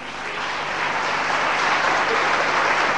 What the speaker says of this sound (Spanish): El aplauso bien grande.